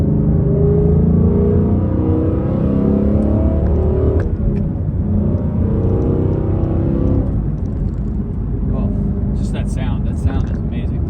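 A Ford Mustang with a 5.0 Coyote V8 revs loudly and steadily up close, its deep engine note rising and falling over about eleven seconds with no talking.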